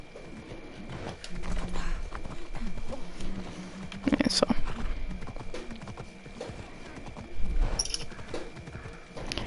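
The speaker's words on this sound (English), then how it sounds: "My horse is taking forever to come to me." Video game horse hooves clip-clop rhythmically as the horse approaches in Assassin's Creed Odyssey, with occasional louder thuds and a brief spoken word mixed in.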